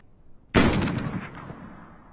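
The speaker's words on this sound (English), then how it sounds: "Falcon grabs a 50 cal and with the help of Hawkeye as a spotter manages to take out several insurgents" A single loud, sharp blast from a .50 caliber rifle in a movie battle scene cracks out and then rolls into a long echoing tail that fades over about a second and a half.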